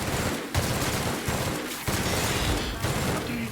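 Gunfire in the video game The Outer Worlds, a rapid sequence of loud booming shots and impacts spread over several seconds amid dense game noise.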